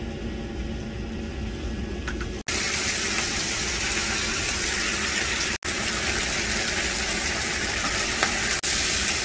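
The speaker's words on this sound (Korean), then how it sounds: "이렇게 양파도 넣어서 같이 볶으십니다." Onions and boiled noodles stir-fried together with jjajang sauce in a pan at a car-camping spot, a steady loud sizzling hiss that runs continuously with two brief breaks.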